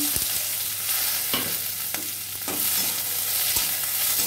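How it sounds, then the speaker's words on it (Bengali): Dry red chillies, bay leaves and chopped onion fry in hot oil with a steady close sizzle, while a spatula scrapes and stirs the pan in repeated sharp strokes. "ভালো করে ভেজে নেব।"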